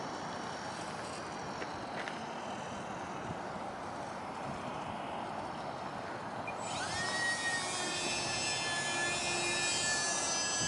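Small radio-controlled aircraft flying into a light headwind, a thin motor whine that rises sharply partway through as power increases, steady and moderately distant against outdoor background noise.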